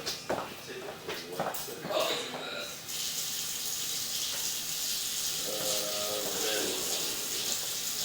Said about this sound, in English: I'm going to turn on some water, rinse off the camera